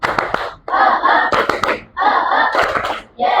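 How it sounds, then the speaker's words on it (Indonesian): Classroom group doing rhythmic 'tepuk semangat' spirit clapping, with loud bursts of hand claps in patterned bunches separated by short pauses, several sharp single claps standing out. "kita tepuk-tepuk semangat dulu ya, supaya rileks untuk pembelajarannya"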